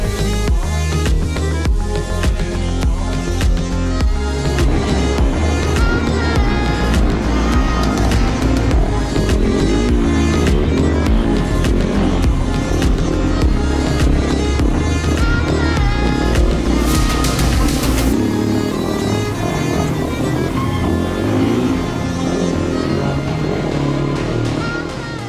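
A Fantic XEF 450 4T four-stroke off-road motorcycle from 2022 is ridden hard on a dirt track, its engine roaring loudly and steadily throughout with rising and falling revs and constant gear-driven drone.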